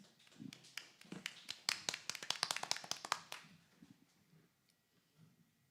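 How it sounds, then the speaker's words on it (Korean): A small, sparse round of hands clapping for the final participant of an online creative festival as she comes onto the stage. The claps build quickly, hold briefly, then fade out into near quiet. "우리 심수민님을 큰 박수로 맞이해 주시죠"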